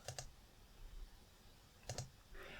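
A computer mouse gives two quick pairs of crisp, close clicks, one pair at the start and one near the end, with quiet room tone between them.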